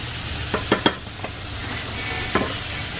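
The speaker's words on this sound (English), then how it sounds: "You fry the cheese down with it." A taco filling of cheese and green peppers with vegetables fries in a pan, a steady close sizzle with a few sharp scrapes and knocks of stirring.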